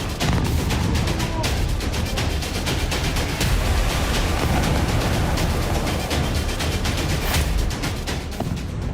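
A dense, continuous barrage of cracking blasts and booms from explosions after a missile strike on the city of Dnipro, loud and rapid, with a few voices faintly beneath.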